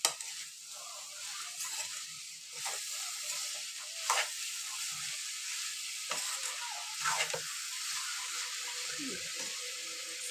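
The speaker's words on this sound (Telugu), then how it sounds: "ఇంకొకసారి కలబెట్టాలి" Bitter gourd curry with jaggery being stirred in a frying pan, a steady close sizzle broken by repeated scraping strokes of the spoon at uneven intervals.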